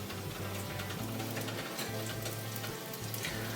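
Pączki dough frying in hot oil, a steady close sizzle and crackle that runs continuously with no pauses and no talking.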